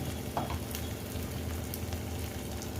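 Chili powder, garam masala and coriander powder frying in a pan for egg biryani, giving a steady close sizzle with light stirring scrapes and no voices.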